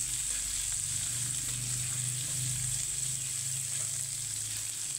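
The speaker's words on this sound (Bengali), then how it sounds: "এখানে আমি একটু আদাটাকে ভেজে নেব কাঁচা গন্ধ চলে যাওয়া অবধি।" Grated ginger and chopped green chili fry in hot oil with a quiet, even hiss that carries steadily, up close and without any talk.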